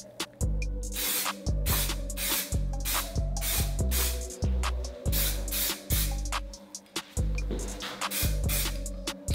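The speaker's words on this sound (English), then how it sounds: "Now we are ready for this black enamel spray." Repeated short bursts of black enamel spray paint hissing close by while refinishing a 1991 Honda CR125, each lasting under a second with brief pauses between, alone without talk.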